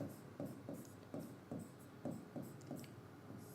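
An equation is written by hand in a power systems lecture, giving short, close scratchy strokes in an irregular rhythm under a quiet room tone.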